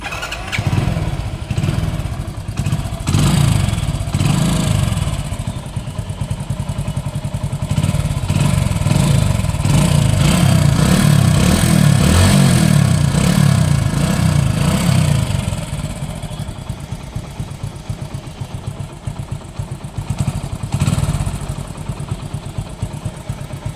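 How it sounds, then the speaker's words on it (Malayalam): A used motorcycle is kicked into life, then settles into a steady, close idle with a rhythmic mechanical clatter that rises in revs midway before easing back down. "അതേപോലെ വണ്ടി സ്റ്റാർട്ടാക്കി തരാം"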